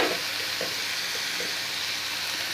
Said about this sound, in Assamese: নহৰুৰ কেঁচা গোন্ধটো যোৱালৈকে ভাজিম